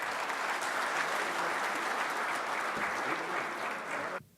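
Sustained applause from an audience at an Urdu mushaira poetry gathering in Qatar, dense and steady for about four seconds before cutting off abruptly.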